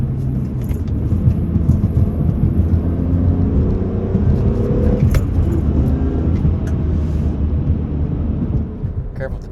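A BMW E46 M3 drives through corners, its engine a steady rumble rising and falling under someone talking throughout.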